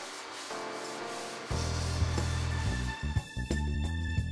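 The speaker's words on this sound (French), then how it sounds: "Pour poncer en hauteur et sous plafond, pensez à vous munir du manche télescopique avec raccord pour ponceuse Wolfcraft." A power sander grinds steadily against plasterboard, a droning motor under a rough abrasive hiss, close and continuous with slight shifts in pitch.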